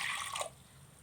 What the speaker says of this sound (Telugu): ఒక గ్లాస్ పప్పుకి 2 గ్లాసులన్నర వాటర్ పోసుకుని